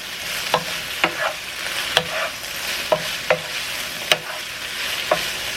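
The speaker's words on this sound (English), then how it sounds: "Right when it's about to come off, I'm going to mince some garlic, stir it in there with that." Red pepper flakes and minced garlic sizzle in a hot pan while a utensil stirs them, leaving regular sharp scrapes roughly every half second over a steady frying hiss, close and clear.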